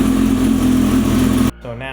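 A motorcycle engine runs at a steady, close idle-like drone for about a second and a half, then cuts away to quieter background with a voice talking.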